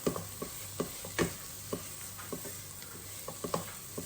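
Garam masala and crushed pepper stirred through a pan, a string of quick light scrapes and taps in an irregular rhythm over a faint steady sizzle, close and fairly quiet, no voices.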